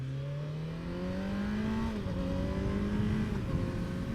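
A 2017 Kawasaki Z900 naked motorcycle pulls away on the road, its engine note climbing steadily through one gear, dipping at a shift and rising again, loud and close with no talk.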